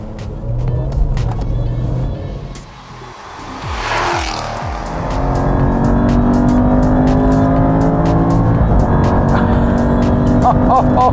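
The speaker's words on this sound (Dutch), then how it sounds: "Meteen, hè, die 5 liter V8 supercharged, die herken ik nog zo goed." Supercharged 5-liter Jaguar V8 running loud and continuous, with a brief revving surge, a dip in level, then a steady heavy drone building and holding through the end; no talking.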